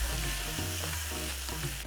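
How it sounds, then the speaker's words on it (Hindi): Grated boiled beetroot fries in a pan, giving a short, dense, steady sizzle with a low hum underneath. It is heard close and with no talk. "उसके बाद भून लेते हैं इसे अच्छे से। मॉइस्चर बहुत होता है इसलिए इसे भूनना जरूरी है।"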